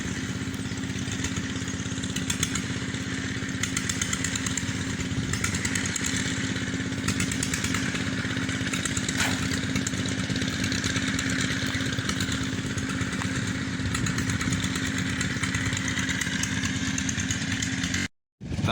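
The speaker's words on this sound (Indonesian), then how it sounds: "Di sana pada masyarakat sedang menggali pakai mesin." A gasoline-powered digging machine run by villagers at an archaeological site, droning loudly and continuously with a buzzy, chainsaw-like motor tone for the whole stretch before cutting off abruptly at the end.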